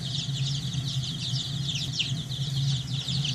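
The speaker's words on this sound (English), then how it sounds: "I've got roughly about 100 chicks in here." A brooder holding about 100 baby chicks fills with a dense, continuous chorus of high peeping and chirping, steady and moderately quiet, with a low background hum beneath.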